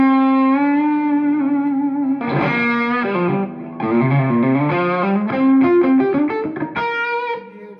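Electric guitar played through a Mesa Boogie Nomad amp in vintage mode, a slightly compressed, mid-heavy tone with sustained chords and single-note phrases ringing out with effects and light reverb, loud and close with no talking.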